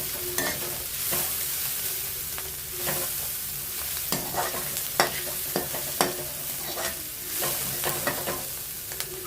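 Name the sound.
cooked ivy gourd added to the pan, sizzling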